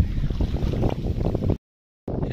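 Wind gusts buffet the microphone outdoors on the rocky banks of the Rhône river, a loud continuous low rumble that cuts out abruptly for a moment before resuming.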